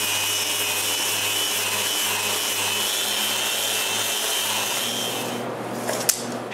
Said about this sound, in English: I sand the inside of the frames.